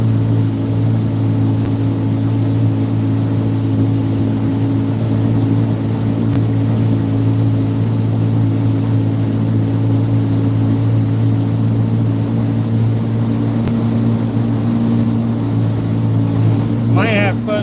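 Speedboat engine held at full throttle, a loud, steady droning roar that runs without letting up, with a carburetor that has been sitting unused for a few years, and water and wind noise around it.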